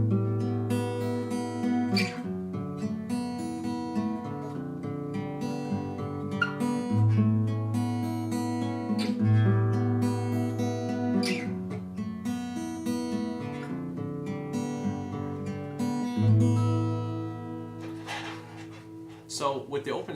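Fingerstyle acoustic guitar piece in A, thumb picking a steady bass on the lower strings while three fingers pluck open and fretted notes on the top strings, a continuous ringing, full-sounding pattern played alone for about twenty seconds.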